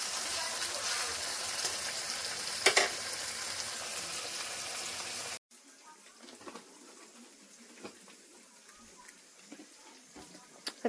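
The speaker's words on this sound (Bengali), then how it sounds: "সবকিছু তো ভালো করে হালকা করে ভেজে নিয়েছি" Vegetables and tomatoes fry in oil for pumpkin leaf paste, a soft steady sizzle with occasional crackles that drops sharply partway through and continues more quietly in the second half, with no speech.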